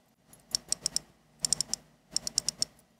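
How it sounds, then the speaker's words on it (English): Date-setting crown of a cheap wristwatch turned in three quick runs of sharp clicks, about four or five clicks each, close and crisp against near silence. "The date window has very nice clicky feedback."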